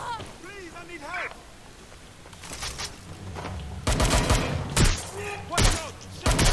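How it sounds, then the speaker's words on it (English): Gunfire in the video game Watch Dogs Legion comes as loud bursts of rapid shots and heavy thumps, rising toward the end, while voices shout over the exchange. "Shots fired!"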